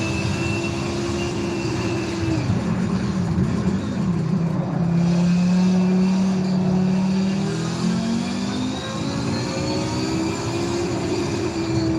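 Race car engines in Forza Motorsport 7 drone steadily, pitch sliding and shifting as cars run close together, a continuous loud whine without speech.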